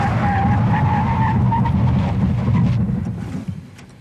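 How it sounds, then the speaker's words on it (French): A 2006 Honda CR-V EX brakes hard from 100 km/h in an emergency stop test, loud close tire and road roar with a skidding squeal that fades as the vehicle comes to rest. "on va faire un 100 km/h 0, donc un test de freinage."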